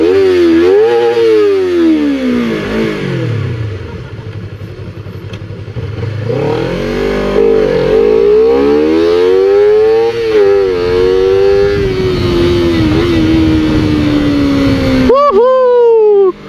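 A Honda CBR250RR in Sport Plus mode revs up through the gears, its loud engine whine climbing and dropping repeatedly, with a voice talking over the ride near the start.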